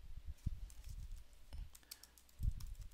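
Sparse typing on a computer keyboard, a few soft key clicks at irregular intervals, quiet and close.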